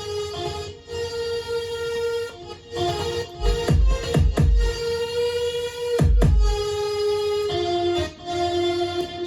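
A future bass lead melody played on keys carries bright synth notes over thumping kick hits and swelling chords, close and full, with no voices.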